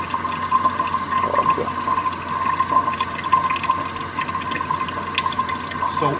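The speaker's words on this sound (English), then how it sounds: "I have water, and it's just running from the tap, and that water is cooling down the steam" Tap water runs steadily through a lab distillation setup, cooling the steam in a condenser; an even, continuous rushing and trickling hiss with no talk.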